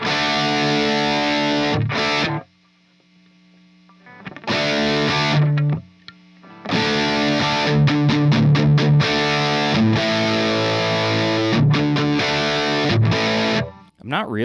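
Electric guitar played through a cheap overdrive pedal, set up to resemble a blues-style drive: loud, distorted chords and riffs in several bursts separated by short pauses.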